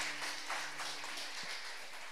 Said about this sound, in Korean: 우리 박수 한번 크게 주시기 바랍니다